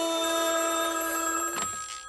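A telephone rings with a bright electronic bell-like trill, a sustained ring that cuts off abruptly before a brief clatter, heard alone without any voices.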